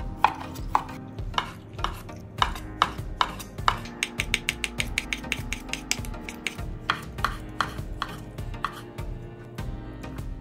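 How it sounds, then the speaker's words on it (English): A knife chops beef short rib into bite-sized pieces on a board for Korean radish soup: a close run of sharp, crisp knocks that quickens into rapid chopping midway. "Cut the beef into bite-sized pieces."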